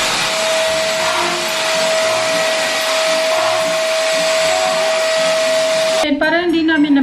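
A household vacuum cleaner runs steadily and loudly indoors with a constant whine, then switches off near the end as a short burst of talk begins.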